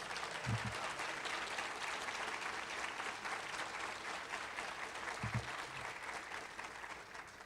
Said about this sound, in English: So let's give Alan a round of applause.